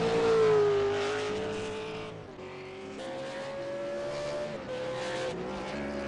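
V8 race cars circle the Watkins Glen track in qualifying, with a steady high engine whine whose pitch shifts through gear changes and a loud close pass fading into continuous engine drone.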